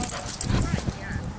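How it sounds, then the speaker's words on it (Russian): Dogs of mixed sizes in a dog park give short barks and yips with some whimpering, mid-distance, while people talk over them. "А, там еще собаки."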